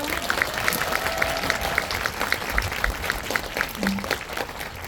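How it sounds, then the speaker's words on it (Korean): An audience at a film talk event at a cinema applauds steadily, with many hands clapping in a dense, continuous patter that holds at an even, moderately loud level throughout. "박수 부탁드릴게요."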